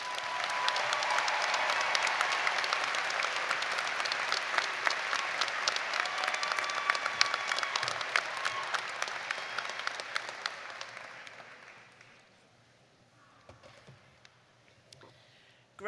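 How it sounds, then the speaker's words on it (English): Applause for valedictorians fills a university commencement hall, a broad sustained roar of clapping that dwindles to a few scattered claps and near quiet over the last few seconds. "Please help me in giving a round of applause to all our valedictorians."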